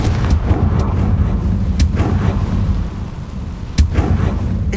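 The Confringo spell in the video game Hogwarts Legacy sets off loud, booming fiery explosions over a heavy low rumble, with several sharp blast cracks spread across the clip.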